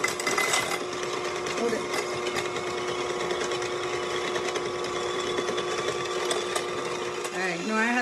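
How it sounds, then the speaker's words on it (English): An electric whipper whirs continuously as it beats food in a bowl, a steady close motorized buzz that shifts pitch near the end, with people talking briefly over it. "Plug in your whipper."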